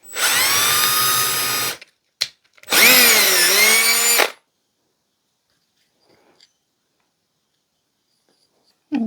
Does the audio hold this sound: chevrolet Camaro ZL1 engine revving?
no